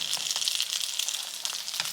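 Continuous bright sizzling and crackling of chicken nuggets frying in hot oil in a pan, steady and close, with small pops scattered throughout.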